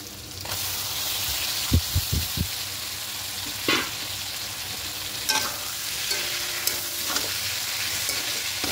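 Taro stolons hitting spiced masala in a hot pan, a constant loud sizzle with a few sharp clanks and scrapes of a spoon stirring early on, no voices.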